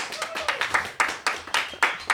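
An audience claps in a brisk, even rhythm of crisp hand claps, roughly four per second. The claps are fairly close and moderately quiet.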